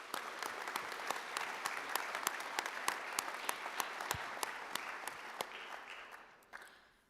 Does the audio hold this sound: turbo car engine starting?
no